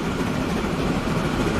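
A long train rolls past in the game Transport Fever 2 on a Trans-Siberian Railway mission, a steady, broad rumble of wheels and carriages at a constant moderate level, with no one talking over it.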